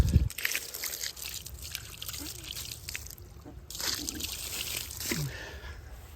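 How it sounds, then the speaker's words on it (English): Water from a bucket pours and trickles over an old cemetery headstone, a granite or marble monument from around 1920, with splashing bursts and dribbling runoff outdoors, fairly close, with some speech around it. "I'm going to rinse it off with a bucket of water now."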